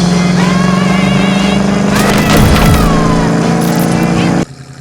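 A 1968 Ford Mustang coupe with a fuel-injected 302 V8 and automatic transmission on a test drive: a steady, loud engine drone with a swell in revs midway, cutting off abruptly near the end.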